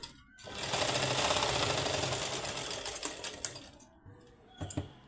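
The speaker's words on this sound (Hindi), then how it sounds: "बस इसको मिला के और यहाँ से यहाँ तक आप सिलाई लगा दो" Close domestic sewing machine stitching a seam on an apple cut kurti, a fast rattling run of stitches for about three seconds that slows and stops, followed by a brief second burst.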